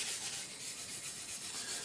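A sanding block rubs over a balsa-style catapult glider, giving a steady, close, dry rasping hiss that runs continuously with slight back-and-forth swells and no talk.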